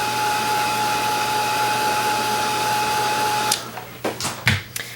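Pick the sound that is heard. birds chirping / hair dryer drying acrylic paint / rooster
hair dryer drying acrylic paint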